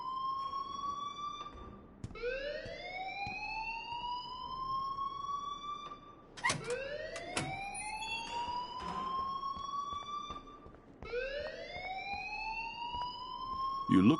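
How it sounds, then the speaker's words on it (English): In the game Life is Strange, an alarm wails in rising electronic siren sweeps, each climbing and holding before restarting, repeated over and over at a steady loud level. "please turn off that alarm since that's your job"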